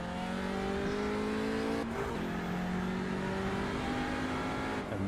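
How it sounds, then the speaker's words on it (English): GT3 race cars in iRacing during the Nürburgring 24 Hours streaming past, a loud continuous layered engine drone with shifting pitches as several cars go by together, one sharp gear change partway through, no voices. "And the GT3 field is perfectly going past us now"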